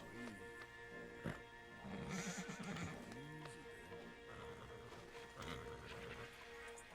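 Horse in a video game neighing and whinnying in drawn-out calls, with clip-clop hooves and a busy game soundscape beneath, moderately close.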